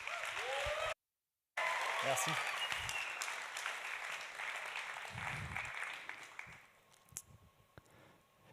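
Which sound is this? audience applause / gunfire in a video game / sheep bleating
audience applause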